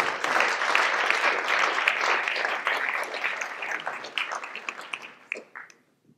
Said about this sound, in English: And a great big round of applause.